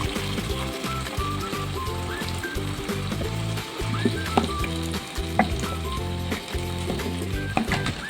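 Chicken tipped into a pan of softened, sautéed tomatoes sizzles steadily, with busy clicking and scraping from the pan throughout and no talking.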